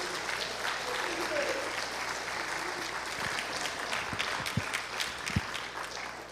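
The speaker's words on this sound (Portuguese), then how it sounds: "Pode aplaudir o Senhor." A church congregation applauding together at a worship service, sustained crowd clapping at a moderate distance with a few voices underneath.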